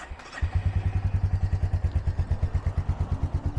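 A 2022 Royal Enfield Meteor 350 motorcycle with a fuel-injected single-cylinder engine cranks briefly, fires up and settles into a steady, thumping idle, close and loud with an even rhythmic beat and no talk.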